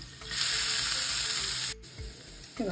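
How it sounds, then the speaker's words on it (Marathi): Garlic and finely chopped onion dropped into hot oil in a kadai burst into a loud, close sizzle that holds steady and then cuts off abruptly, followed by a softer crackle and a brief low clatter. "आता आपण यामध्ये थोडंसं लसूण घालूया तेल गरम झाल्यावर आणि लगेचच बारीक आपण जो चॉप केलेला कांदा आहे तो घालणार आहोत"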